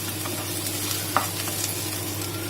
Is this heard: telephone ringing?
no